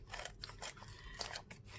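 Scissors snip through a sheet of paper in a quick series of close, crisp cuts, with short pauses between the strokes.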